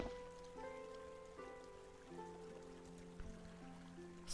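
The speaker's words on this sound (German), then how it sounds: "So plätschert's bloß nach unten." Water trickles downward in the adventure game Lilly Looking Through, a very faint steady splashing under soft sustained musical tones from the game's score.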